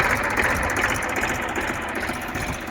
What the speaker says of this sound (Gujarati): 2012-13નું મોડેલ છે, પરફેક્ટ ટ્રેક્ટર છે.